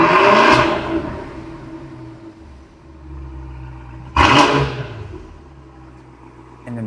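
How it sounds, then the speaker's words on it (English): Exhaust of a Cadillac CT5-V Blackwing revs and settles, two sharp loud blips a few seconds apart, each decaying into a deep low idle rumble, with the tone shifting as the V button changes the exhaust mode. "it changes that exhaust sound"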